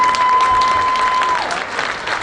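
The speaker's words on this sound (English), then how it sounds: "All stand, clap hands" Audience stands and applauds at a World AIDS Day 2019 launch event, a dense burst of steady hand clapping from a large crowd, loud and close, with no talking over it.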